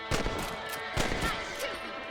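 Sharp rifle shots fired at rabbits in the Red Dead Redemption game, three or four loud cracks spaced under a second apart, with a faint voice in the background.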